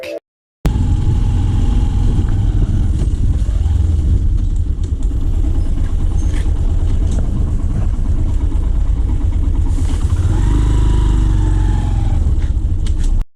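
A motorcycle riding along a road produces a loud, continuous engine drone with rushing wind noise that holds steady throughout, cut by a brief silence at the start.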